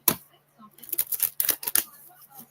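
Tarot cards being shuffled in a few quick riffling bursts, close and fairly crisp, with no talking over them.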